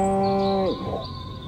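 In the Destroy All Humans video game, a cow gives a single loud, close moo that holds steady and then slides down and fades into low background ambience.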